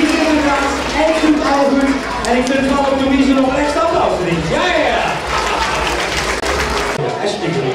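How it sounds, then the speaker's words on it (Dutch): Applause after a magic trick at a children's Sinterklaas show, with clapping running underneath loud, animated talking and voices from the stage throughout. "extra applaus voor Louise!"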